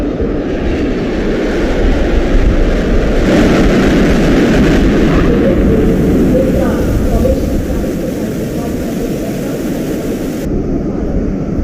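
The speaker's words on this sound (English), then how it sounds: "वायुसेना के विमान सलामी मंच के ऊपर से गुजर रहे हैं" Indian Air Force aircraft pass over the saluting dais during a Republic Day parade in poor, low-visibility weather, a loud, steady broadband jet roar swelling through the middle and holding throughout.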